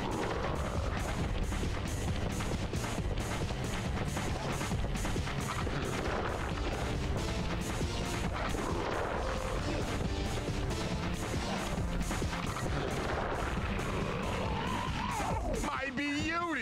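Explosions and gunfire from the Sly Cooper video game keep up a dense, continuous barrage of booms and crashes as a gun is destroyed, loud throughout with a sharp burst near the end, over game music and voices.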